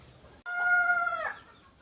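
A red gavthi breeder rooster crowing, one loud close crow held for nearly a second that ends in a rough break, with quiet before and after.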